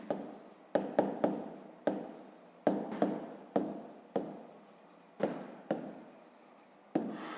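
Pen strokes on paper while handwriting a fifth-grade geometry exercise, a series of short scratchy bursts with brief pauses between them, close and fairly quiet, with no talking.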